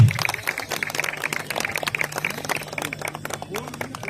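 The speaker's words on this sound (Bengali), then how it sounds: "আমাদের মাননীয় সাংসদ জগন্নাথ সরকার মহাশয়কে একটু হাততালি দিয়ে অভিনন্দন জানাতে হবে" An audience claps to congratulate MP Jagannath Sarkar, a steady patter of many hands at moderate distance over a low electrical hum, with some voices mixed in.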